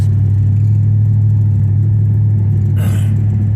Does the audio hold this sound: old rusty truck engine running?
yes